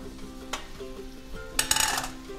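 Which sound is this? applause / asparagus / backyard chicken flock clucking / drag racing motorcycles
asparagus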